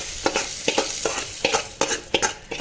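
Ingredients for a drumstick leaf kootu tipped into a hot pan and stirred, giving a close sizzle with a run of sharp scraping and stirring bursts and no voice.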